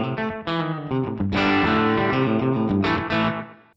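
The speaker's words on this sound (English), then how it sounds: "I could have a little bit of that slapback on here, and I could leave it on the large room reverb" An electric guitar played through a Fractal AM4 clean amp setting with slapback delay and large room reverb, ringing chords and notes that bloom and overlap with a short echo, loud and close with no voice.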